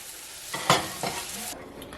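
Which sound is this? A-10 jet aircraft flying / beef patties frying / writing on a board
beef patties frying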